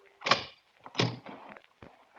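A door being tried and opened, a couple of close knocking thunks and a latch rattle followed by a softer bump, short and distinct against a quiet room.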